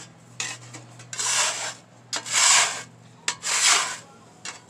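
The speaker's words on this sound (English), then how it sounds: "now I'm going to start scraping" Scraping grease and built-up grime off a cooking surface with a scraper, heard as three long rasping strokes with short clicks between them, close and fairly loud, with no talk.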